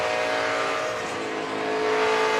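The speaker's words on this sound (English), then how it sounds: "He breathed the gas, tires squall a little bit." A race truck's engine roars at the 2014 Pocono Mountains 150 as its tires squall while sliding, a steady mid-distance drone of engine and tire noise with no talking.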